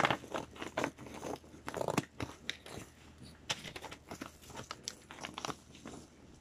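Crinkling and tearing of a mail package being opened with scissors close by, with irregular crunchy rustles and snips continuing throughout, fairly loud and busy.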